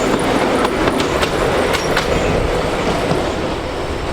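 An old train on the Šargan Eight line at Mokra Gora, Serbia, rumbles steadily close by, loud and continuous, with rhythmic clacking of wheels on rails and occasional metallic squeals.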